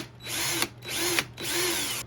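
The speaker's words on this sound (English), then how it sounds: "lay it on its side and drill holes partially into the side" A power drill boring holes into the side of a solar camping light, three loud, close bursts of whining motor with brief pauses between them, each ending in a short pitch drop.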